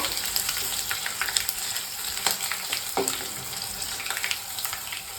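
Ingredients roasting in a pan for gooseberry chutney give a continuous close sizzle, with occasional stirring scrapes and light clicks throughout.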